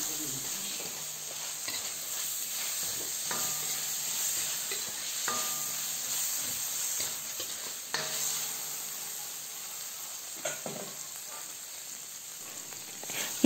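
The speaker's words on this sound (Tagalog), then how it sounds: "Lutuin lang natin ang kamatis ng 1 minuto. Ayan, haluin na natin lahat." Sliced tomatoes fry in a pan with garlic while being stirred, a steady sizzle under occasional scraping and clinking of a utensil against the pan, close and fairly quiet.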